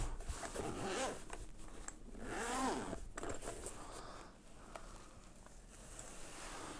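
A zipper on a carrying case for a NACON Revolution 5 Pro controller is drawn open in a couple of close, scratchy pulls, with soft handling rustle around them.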